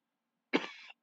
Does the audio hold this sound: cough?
yes